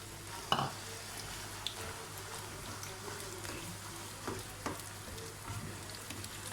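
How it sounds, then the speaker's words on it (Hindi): Spiced beef mince goes into browned onions and fries in a pan, a low steady sizzle with occasional sharp clinks and scraping stirs, heard close up and fairly quiet. "ये प्याज अब ब्राउन हो गई है। इसमें जो मैं कीमे पे मैंने मसाला लगा के रखा था वो मैं डाल रही हूँ।"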